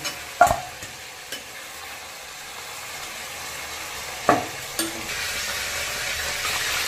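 Chicken pieces frying in oil in a pan, an even sizzle punctuated by several sharp spatula knocks and stirring clatters, close and moderately loud.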